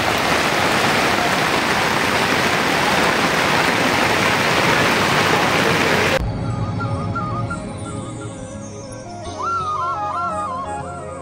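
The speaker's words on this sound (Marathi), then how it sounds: "मॅडमने उघडले छत्री, होते पाऊस आला" Rain falls near a temple as a dense, steady hiss for about six seconds, then cuts to a quieter scene with faint voices and a brief melodic tone.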